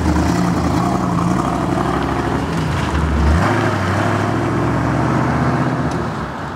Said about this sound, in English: The Bel Air's powered by a 400 cubic inch small block Chevy V8 engine.